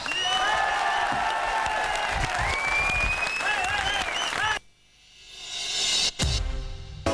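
A studio audience on the French TV show Nulle Part Ailleurs bursts into loud, sustained applause with whistles and cheering for Jean-Pierre Bacri and Zabou, then it cuts off abruptly into near silence before a brief burst of noise.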